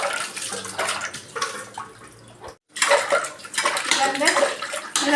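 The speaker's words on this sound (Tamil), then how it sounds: "இப்போ இந்த லெமன் தண்ணியை வச்சு கழுவிடலாம்" A container is rinsed with lemon water in a sink, with running water splashing and sloshing against it in bursts around a brief pause, close and fairly loud.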